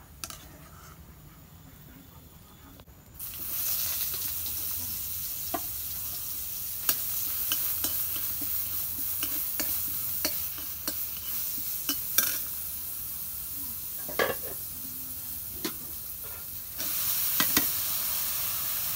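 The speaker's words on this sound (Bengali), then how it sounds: "পুঁটি মাছের চরচড়ি দেখেন কিভাবে রান্না হয়।" Small puti fish and potato curry sizzles steadily in a pan, with scattered sharp scrapes and clinks of a spatula stirring the pieces; the frying starts loud after a quiet opening and continues close by with no talking.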